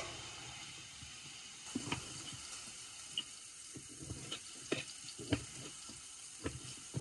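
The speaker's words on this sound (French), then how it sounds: "je vais faire revenir les saucisses que j'ai coupées en petits morceaux" Small pieces of sausage fry quietly in oil, giving a faint, steady sizzle with scattered soft pops and clicks from stirring.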